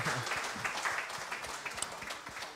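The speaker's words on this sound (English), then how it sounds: "applause, everyone." Applause from a live podcast audience at a Celtic View Podcast recording, a short, fairly faint patter of clapping from a small crowd with scattered individual claps.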